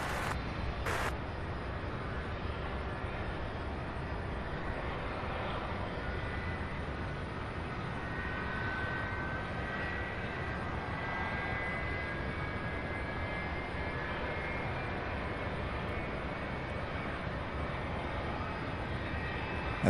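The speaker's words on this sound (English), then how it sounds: "this is an Airbus A300" An Airbus A300 jet airliner at Louisville's SDF airport, its engine roar a steady, broad rumble holding fairly loud and even across the whole stretch without voices.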